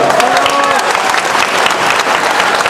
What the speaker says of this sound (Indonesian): Berdiri, berdiri. Aplaus.